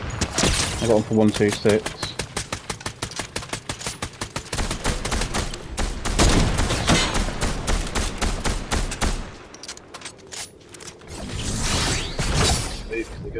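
Rapid gunfire in the video game Fortnite, loud repeated bursts of shots with mechanical clicks, a brief lull near the end before more firing, while a player talks over it.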